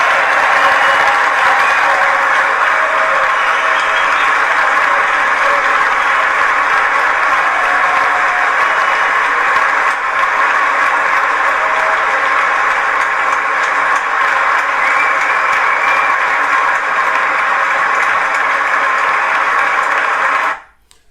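A large audience gives Venezuelan leader Juan Guaidó long, sustained applause during a speech, a loud continuous roar of clapping that holds steady for about twenty seconds before cutting off abruptly.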